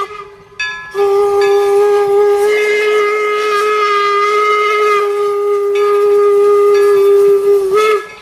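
A toy train gives a long, loud, steady steam-style whistle with a hissing edge, sounding close and continuous after a brief start, with no talking over it.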